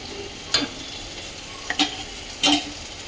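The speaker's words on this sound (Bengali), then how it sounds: "মশলাটা একটু ফুটে গেছে এখন দিয়ে দেবো বেগুন" Eggplant pieces go into sizzling spices in a hot pan: a constant close hiss of frying is broken by three sharp clattering splashes as pieces drop in one at a time.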